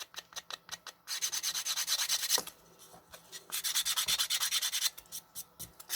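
Sandpaper rubs briskly along the edges of a free-standing decoupage block in quick, rhythmic strokes that come in close, bursty runs separated by short pauses.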